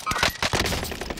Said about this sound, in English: He's gonna try to shoot us with that gun.